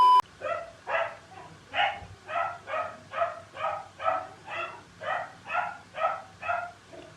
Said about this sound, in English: And the dog's going again.